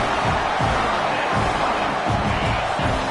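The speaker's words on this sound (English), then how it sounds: "Decibels rising as the crowd gets behind this defense on third down." A college football stadium crowd roars loud and continuous on a third-down play, a dense wall of cheering with a few thumps underneath.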